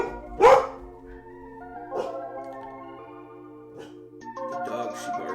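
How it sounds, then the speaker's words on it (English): A dog barks once loudly up close at the start, followed by a few softer scattered barks and yips over a steady background hum, with the sound carrying a slightly musical, reverberant backdrop. "The dog, she barks."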